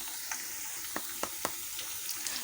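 Spices, dried chillies, onion and ground cumin sizzle as they go into frying beef for a pickle-style beef curry, a steady hiss of hot oil with a few sharp crackles and pops, close up, with no talking.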